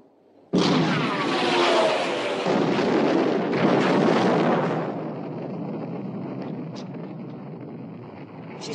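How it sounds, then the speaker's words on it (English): Main guns of a warship in a 1960 naval battle film open fire in a sudden heavy blast that rolls into a long roaring rumble, then fades to a windy, droning sea background. "Open fire, main armament."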